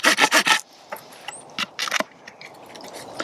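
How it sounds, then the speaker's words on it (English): Hooyman 6-inch Megabite pocket folding saw cutting the end of a piece of fat wood, starting with four quick rasping strokes up close, then sparser scraping, taps and rubs against quiet background. "I'll just cut the end of it here so we can make some dust that way."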